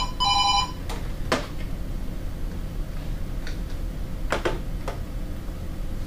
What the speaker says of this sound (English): that phone rings one more time, I'm throwing it out the window